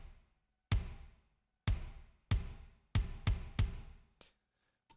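Kick drum sample from the That Sound Drums Icons pack, six solo hits with sharp attacks and decaying tails, struck at a moderate, slightly uneven pace and fairly loud.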